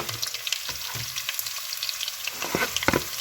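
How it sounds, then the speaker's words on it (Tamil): Onions and green chilies are sautéed in a pan with garlic and curry leaves, giving a steady close sizzle and frying crackle, with occasional scraping stirs toward the end. "இந்த டைமில் நாங்கள் ரெடி பண்ணி வச்ச வெங்காயம் பச்சை மிளகாய் சேர்த்துக்கொள்வோம்"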